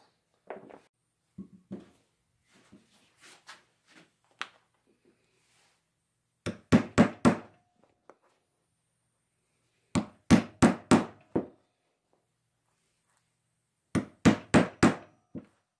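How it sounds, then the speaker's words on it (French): A nail is hammered into wood to make holes for a woodland craft piece, heard as a few light early taps followed by three close bursts of four or five sharp, quick blows with pauses between, with no talking. "je vais devoir refaire des trous avec un clou"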